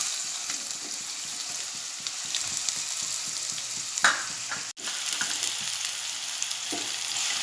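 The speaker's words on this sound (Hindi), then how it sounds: "अब मैं टोप रखी हूँ गैस पर तेल गरम होने के लिए" Onions frying in hot oil in a pot on a gas stove: a steady, even sizzle throughout, with a few brief clinks or scrapes of stirring and no talk.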